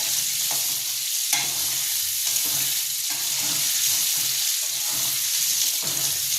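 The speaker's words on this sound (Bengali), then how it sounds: "এরপর আলুগুলোকে ভালো করে" Potato pieces seasoned with turmeric and salt fry in hot oil, a loud continuous sizzle punctuated by repeated scraping strokes of a spatula stirring them, with no voices.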